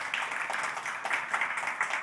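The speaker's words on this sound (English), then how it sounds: "Applause for Christian." A conference audience at a climate accelerator demo day applauds, steady mid-level clapping from many hands that stays fairly distant and even throughout, with no talk over it.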